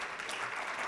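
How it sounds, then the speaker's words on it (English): Audience applause at the closing session of a business summit, a faint, steady patter of many clapping hands. "please, big claps for this"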